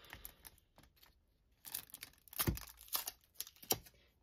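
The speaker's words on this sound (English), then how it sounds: "these packing tapes really gum up your scissors" Scissors cut through sticky packing tape in a quiet series of short snips and crinkly tearing rustles, faint and close with brief gaps between cuts.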